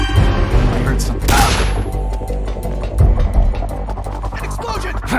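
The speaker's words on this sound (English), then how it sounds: "An explosion!" Explosion from Metal Gear Solid: Peace Walker on Xbox 360, a loud blast followed by rumbling debris and crackling bursts, dense and close, with voices barely under the din.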